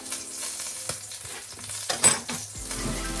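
Salmon fries in a hot pan with a steady, close sizzle, broken by a few scrapes and clinks of a utensil stirring or turning the fish.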